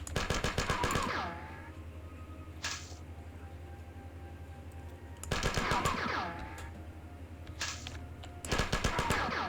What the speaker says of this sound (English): I'll go ahead and grenade them. And be prepared to assault rifle some people.